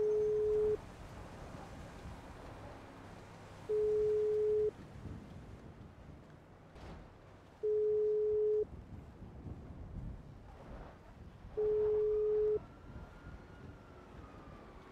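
A GTA V phone call rings out unanswered: four evenly spaced steady ringback tones, each about a second long, recur every four seconds over a low game background hum.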